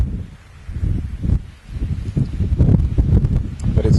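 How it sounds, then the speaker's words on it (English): Strong gusty wind buffets the microphone in the Galloway hills of Scotland, rising and falling in loud rumbling surges with some rustling. "But it's quite windy."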